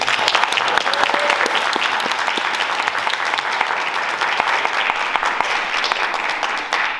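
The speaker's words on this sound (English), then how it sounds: "So if you guys can give yourself a quick round of applause." Students at a school district film festival give a loud, dense round of applause that holds steady for several seconds with no voices over it.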